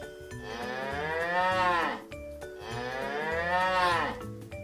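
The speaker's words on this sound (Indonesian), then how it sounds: "Hewan yang bunyinya mu itu adalah hewan sapi." A cow lets out two long, drawn-out moos, one after the other, each swelling and then falling away, heard clearly and alone with no talking.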